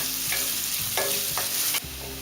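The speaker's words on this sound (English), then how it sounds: "Cook this until the onions are light brown." Quarter cup of onions frying in a pan for an Indian street-food dish, a steady close sizzle with stirring clicks and scrapes breaking through it.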